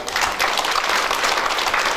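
A church congregation applauds for God during a sermon, dense steady clapping from many hands that fills the space evenly and continues without pause.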